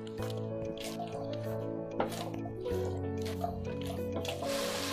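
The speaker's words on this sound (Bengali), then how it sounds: "আর এরপরে আমি 1 চামচ ভিনেগার দিয়ে দিলাম" A spoonful of vinegar is poured into a pot of vegetable momo soup, giving a short, soft liquid trickle and drip over steady background music.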